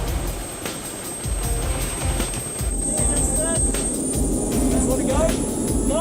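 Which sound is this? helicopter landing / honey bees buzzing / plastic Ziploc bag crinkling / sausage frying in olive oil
helicopter landing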